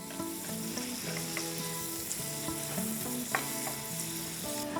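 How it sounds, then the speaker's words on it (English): Food sautés in a pan for a stuffed sea bream dish, a soft steady sizzle with faint stirring under quiet tonal background sound. "we're gonna let that saute for a few minutes. We're gonna give it a shake."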